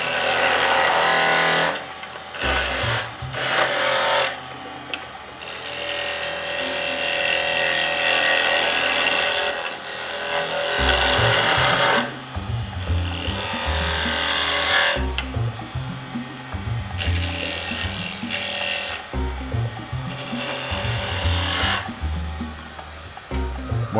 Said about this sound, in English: And now I switch to my spindle gouge.